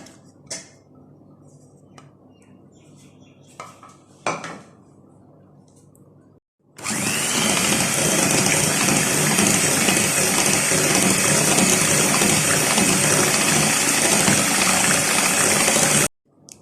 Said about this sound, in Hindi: योगर्ट भी ऐड कर देंगे 1 प्याली और इन तीनों चीज़ों को मैं बीट करूंगी।